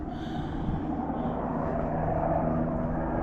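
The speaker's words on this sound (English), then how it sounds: "It's a helicopter checking out the power lines all over town." A steady, heavy rotor and engine rumble drones continuously, loud and broad, as a helicopter inspecting power lines passes fairly near overhead, echoing in a valley.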